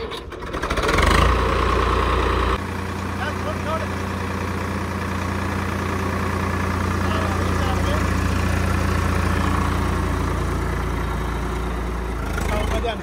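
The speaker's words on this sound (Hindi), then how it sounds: "ट्रैक्टर चला के देखेगा" A Swaraj tractor's engine runs at a steady low idle, a close, continuous throbbing rumble that holds for over ten seconds while people talk nearby.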